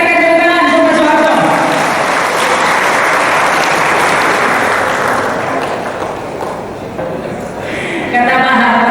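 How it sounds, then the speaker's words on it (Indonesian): A large audience at an Indonesian public gathering gives loud, sustained applause, a dense roar of clapping that swells and holds, dips slightly, then rises again, with a voice speaking faintly beneath it at the start and end. "Sekali lagi kita berikan tepuk tangan untuk Pak Soeharto."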